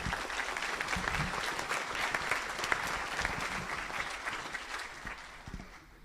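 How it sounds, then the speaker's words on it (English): Applause ripples through the audience at a KubeCon EU 2016 keynote, sustained and moderately loud, tapering off near the end with no voices over it. "So I think that really deserves a round of applause."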